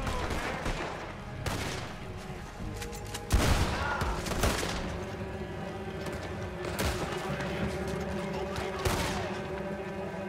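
Shotgun blasts amid a heavy gunfight in the Western video game Red Dead Redemption 2, a volley of sharp repeated shots with one louder boom, layered over continuous combat noise.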